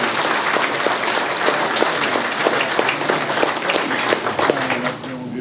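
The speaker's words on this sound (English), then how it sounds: "Malcolm Butler, let's give him a big round of applause" Sustained applause from a hall of fame ceremony audience fills the room, dense and loud with steady crowd clapping throughout, a few cheers mixed in, easing slightly at the very end.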